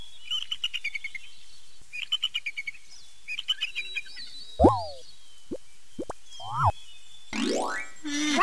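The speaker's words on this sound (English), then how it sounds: "Eagle. Eagle." An eagle calls with a sequence of quick, high-pitched chirping trills, then sharper descending cries and short plinking notes, ending in a loud rising squeal, all alone and fairly close.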